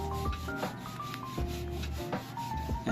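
A hand rubs across rough paint overspray on the glass of a Mitsubishi Adventure, giving a close, continuous gritty scraping with small squeaky tones, steady for several seconds and heard alone.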